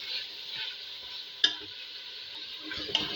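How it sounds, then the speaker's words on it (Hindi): Chopped tomatoes added to browned beef and stirred in a pan: a soft, even sizzle runs underneath while two sharp spoon taps against the pan stand out, fairly quiet and close. "ये गोश्त हमारा अच्छे से भुन गया है, और अब मैं डाल रही हूँ इसमें टमाटर।"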